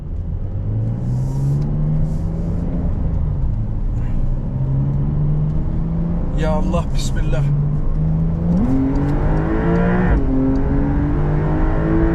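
Porsche 992 Cabriolet accelerating in Sport Plus mode, a loud close engine drone rising and falling in pitch through gear changes, heard from inside the car with occasional wind and a voice speaking over it.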